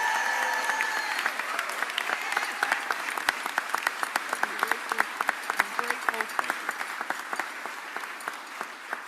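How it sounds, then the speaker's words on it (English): Sustained applause from an audience for Carlos Rogers at a civic event, a dense, steady patter of many hands clapping with sharper individual claps standing out, running the whole time without a break. "give Carlos a round of applause"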